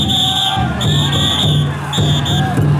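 A large crowd of about 104 taiko-dai float bearers at the Niihama Taiko Festival shouts in loud rhythmic unison, rising and falling in repeated chanted bursts with a sustained high whistle-like tone above.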